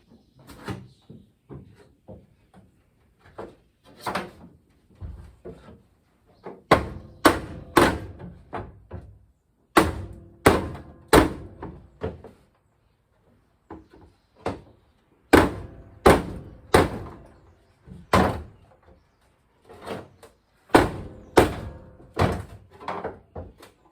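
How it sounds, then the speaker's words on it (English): Repeated heavy knocks ring out in irregular bursts, a big lump hammer striking a wooden block against a 1961 Rambler firewall from inside, sometimes in quick runs, with pauses between. "I'm going to knock this forward from the inside with a block of wood and a big old lump hammer"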